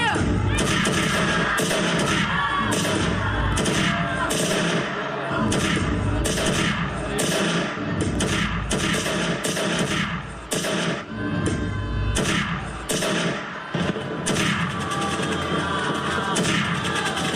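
Stage gunfire effect of soldiers firing in a Republic Day group dance tribute to the Jallianwala Bagh massacre, a loud dense barrage of rapid shots over music and crowd noise that runs continuously throughout.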